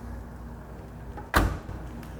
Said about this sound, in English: I'm going to pop the door open here and take a look at the door jamb here.